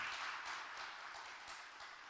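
Church congregation clapping to welcome missionaries Kim Ui-jeong and Park Yeon-a at a Thursday mission service, a faint, steady wash of applause heard from a distance.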